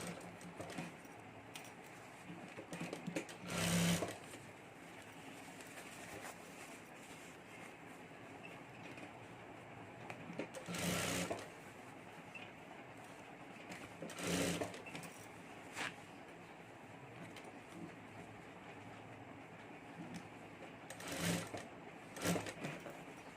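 A sewing machine stitches a fabric clutch purse, a steady mechanical run broken by several louder bursts of fast stitching, with no talk.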